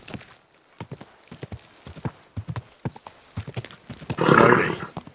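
Horse hooves clip-clop in the medieval game Kingdom Come Deliverance II, a close, steady walking rhythm joined by a loud whinny near the end.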